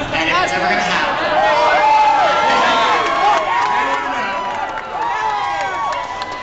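A crowd cheering and shouting at the Sonic Boom 2013 Q&A panel, many excited voices overlapping in a loud, continuous roar of whoops and calls that holds steady throughout.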